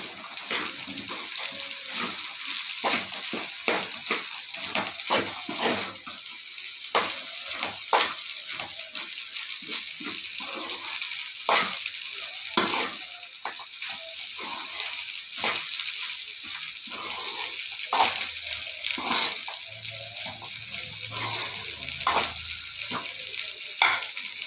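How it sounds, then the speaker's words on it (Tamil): Scrambled egg frying on high flame with masala in a pan for Indian-style egg noodles, a steady sizzle with repeated scraping stir strokes throughout, close and moderately loud with no talking. "எக்கு சேர்த்து நல்லா ஃப்ரை பண்ணலாம்."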